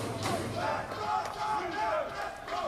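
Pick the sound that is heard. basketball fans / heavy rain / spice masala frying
basketball fans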